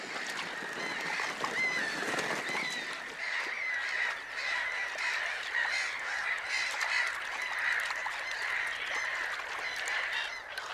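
A noisy flock of black-headed gulls calls continuously in Poland, overlapping harsh cries and squawks filling the air at moderate distance.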